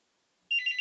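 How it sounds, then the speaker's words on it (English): A phone starts ringing suddenly with a bright, repeating electronic ringtone, fairly faint and alone after a moment of quiet. "That's my phone going off."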